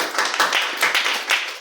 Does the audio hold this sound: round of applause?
yes